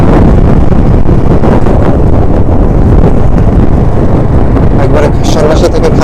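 Steady wind buffeting a microphone over a low engine rumble, loud and continuous, riding a motorbike at speed on a potholed road after dusk.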